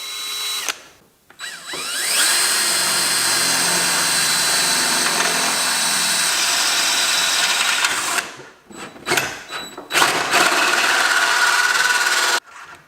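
A power drill with a bent bit drills holes during a budget turbo LS engine build, whining loudly and steadily for several seconds, then cutting out, with short bursts of rattling and restarts.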